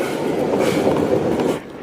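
A train rolls past on rails close by, giving a loud, continuous rumble with clattering wheels that fades slightly at the end.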